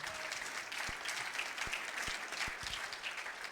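Spectators at the 2015 European shooting championship in Maribor, at the men's 25m rapid fire pistol final, applaud in a steady, fairly soft wash of clapping, with a few low thumps under it.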